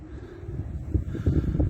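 Steady low wind rumble buffeting the microphone outdoors, gusting a little stronger toward the end, with no voices.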